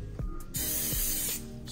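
Cooking spray hisses onto crappie fish fillets in an air fryer basket in one long close burst of about a second, set off by short handling knocks before and after.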